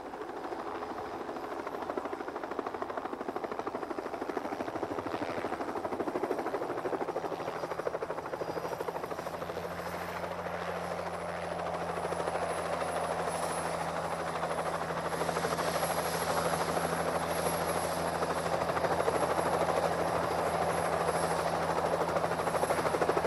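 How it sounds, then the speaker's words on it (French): A helicopter flies overhead at a steady distance, its continuous rotor drone and whine holding for over twenty seconds, fairly faint and unaccompanied by speech. "Un hélicoptère."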